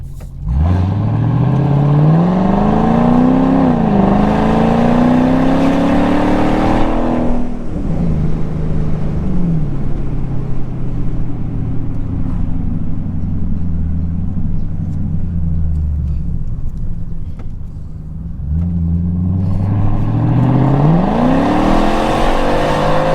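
A 2003 Mercedes-Benz SL55 AMG with a wide body kit, driven with the roof down, revs loud and close, rising through gears with deep engine tones, settles to a steady cruising drone, then accelerates hard again.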